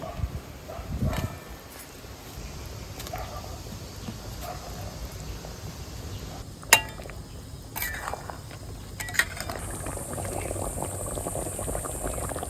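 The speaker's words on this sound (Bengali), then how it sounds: "এবার আমি জল দিয়ে দিচ্ছি এবার আমি কুটকাগুলো দিয়ে দিচ্ছি" Yam kofta curry simmering in a pot after water and koftas are added, a steady low bubbling hiss with a few sharp clinks of utensils against the vessel.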